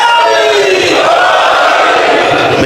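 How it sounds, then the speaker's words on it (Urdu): A large crowd at a religious gathering shouts the Nara-e-Haideri slogan in unison, a loud, dense roar of many voices sustained throughout. "آپ کی اس نعرے حیدری سے تو لگتا ہے"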